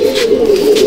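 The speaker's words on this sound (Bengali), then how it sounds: "এই হচ্ছে পাকিস্তানি ব্রিডের পায়রা মিরাবালি" A Mirabali pigeon of Pakistani breed gives a short, close, low throaty coo lasting under a second, loud and clear with no talk over it.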